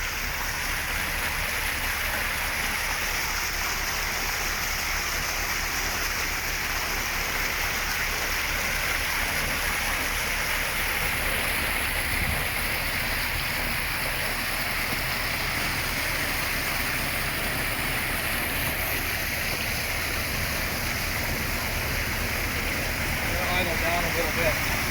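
Water rushes steadily down the sluices of a newly built gold mine, a constant loud broadband wash lasting the whole stretch, with machinery hum and faint talk in the background.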